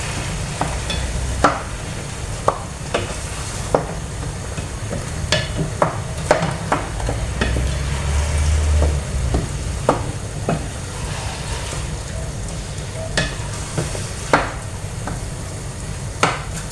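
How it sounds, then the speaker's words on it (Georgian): Meat seasoned with Svan salt fries in a pan, giving a low steady sizzle punctuated by frequent sharp clicks and taps of a utensil against the pan, close by. "ცოტა გადაიხრაკოს და მერე სულ ცოტა წყალსაც ჩავამატებ"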